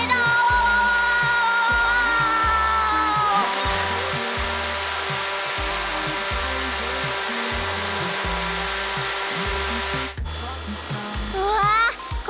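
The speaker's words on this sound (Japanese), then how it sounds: "これは大型ブロワーといって煙やガスなどを素早く外に出す装備で火災現場に欠かせないものなの" A fire truck's large smoke ventilation blower roars steadily with a loud whooshing drone, while a rhythmic pulsing tune plays over it and the tone shifts near the end.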